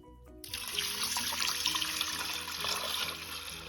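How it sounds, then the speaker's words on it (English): Water pours steadily into an Instant Pot liner, a continuous loud rush with a bright splashing hiss that starts abruptly and runs unbroken to the end. "Now add the 8 cups of water."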